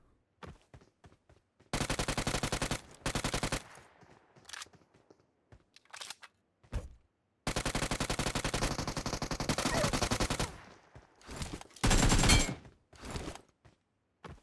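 Rapid automatic gunfire from the mobile battle-royale game PUBG Mobile comes in several loud, sustained bursts separated by short gaps and a few isolated single shots, with no talk over it.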